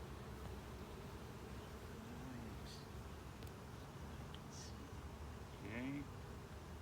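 Honeybees buzz at an open hive during a frame inspection, a faint, continuous hum with occasional brief higher whines as individual bees fly close, with no clear speech.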